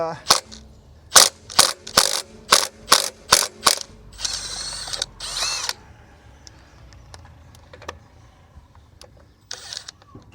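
A Milwaukee impact gun removes wheel nuts from an Escort RS: seven sharp, rapid hammering bursts close up, followed by a longer whirring run, then quieter clinks and handling noises.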